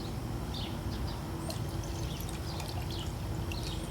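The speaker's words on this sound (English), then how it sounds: "And then I fill the jar with water." Plain water pours into a glass jar of salt solution with lemon juice, a steady splashing stream with bright trickling and dripping tones throughout, alone without talk.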